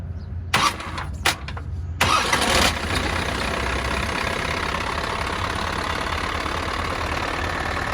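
A truck's Isuzu 4HF1 120 hp diesel engine cranks with a few short bursts, then catches and settles into a steady, smooth idle, close and constant.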